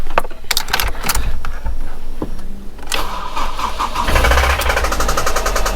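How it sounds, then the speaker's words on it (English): Ford ST150 track car engine cranking and catching, then running roughly with uneven knocking and rattling, loud and close. "So let me start it up for you. You can hear what the car sounds like"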